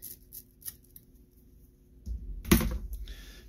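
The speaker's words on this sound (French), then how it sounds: "je vous conseille de prendre une vieille paire de ciseaux pour couper ça" An old, rough pair of scissors snips through material in a quiet room, with a few light ticks early on, then a louder burst of cutting and rustling near the end.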